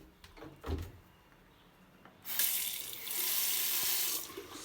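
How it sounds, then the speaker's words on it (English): Water runs from a bathroom sink faucet in a studio apartment, opening with a soft clunk before a bright, steady rush of moderate loudness that continues to the end, with no talk. "sink works fine"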